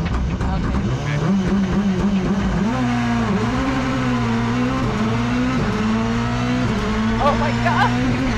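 Ford Puma Hybrid Rally1 car running flat out on full engine and hybrid power, a loud, steady, close onboard engine roar with rising and falling pitch through gear changes and no pause in the drive.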